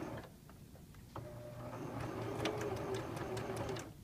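Sewing machine stitching a buttonhole in fabric, a steady close mechanical whir with fast repetitive needle ticking that starts up after a quieter moment and runs continuously, with faint clicks.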